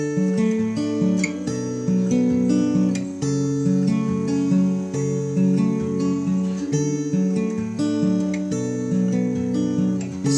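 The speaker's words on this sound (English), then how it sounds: "Altogether, the intro sounds like this." A steady acoustic guitar plays the full fingerpicked intro of a song, moving through chord changes in an even, flowing rhythm of plucked notes that rings out clearly for about ten seconds with no voice over it.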